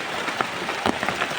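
Heavy rain pours down steadily outdoors, a dense broadband hiss with scattered louder drops striking nearby surfaces, close and continuous with no voices.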